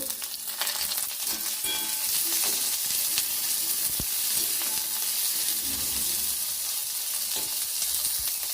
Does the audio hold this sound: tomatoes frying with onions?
yes